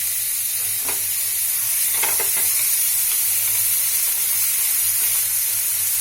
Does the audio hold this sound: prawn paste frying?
yes